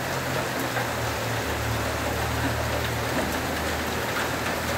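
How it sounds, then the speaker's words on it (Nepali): Heavy monsoon rain pours over paddy fields, a dense, even roar of falling water that holds steady and loud throughout, with no voices. "यति धेरै मुसलधारे पानी परेको छ"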